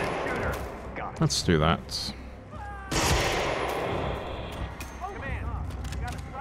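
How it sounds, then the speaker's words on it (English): Shotgun and SMG fire in Hitman Freelancer comes as loud bursts of sharp shots with heavy booms and rattling automatic fire, broken up by brief pauses while someone talks over it. "I could do two more shotgun kills and three more SMG kills"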